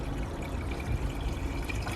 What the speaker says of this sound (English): So you just pour it in here.